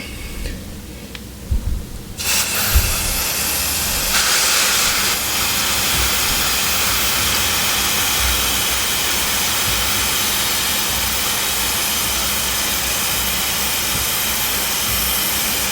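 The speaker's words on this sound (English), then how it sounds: "That way you can move the tire while you're spraying this stuff." Aerosol chain lube sprays onto the O-ring chain of a 2016 Yamaha R6 raised on a stand, with a few faint knocks first, then a loud, close, continuous hiss that runs unbroken to the end.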